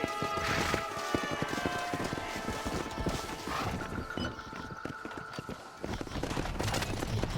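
Horse hooves clip-clop steadily as a horse-drawn wagon rolls along in the Red Dead Redemption video game, a continuous near rhythm of hoofbeats over a full game soundscape.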